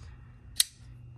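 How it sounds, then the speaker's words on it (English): A single sharp crack of fireworks or a gunshot goes off outdoors, short and fairly distant, heard alone against a quiet low background hum. "And we got fireworks going on because it's the weekend. Either fireworks or gunshots"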